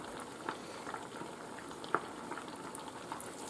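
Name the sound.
rice balls frying in oil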